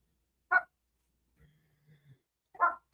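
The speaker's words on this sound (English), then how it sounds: "He's barking" Two short, sharp dog barks spaced a couple of seconds apart, with a faint low whine between them in an otherwise quiet setting.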